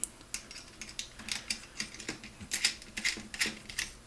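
A clamp tightens onto the bar of a VR golf club: a rapid run of small clicky ratcheting ticks, close and fairly quiet, with no talking.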